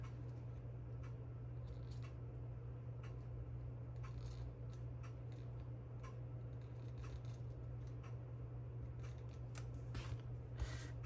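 Scissors snip repeatedly, cutting paper ends at an angle during a Christmas card-making session, a series of faint, crisp ticks over a steady low hum, with no voices.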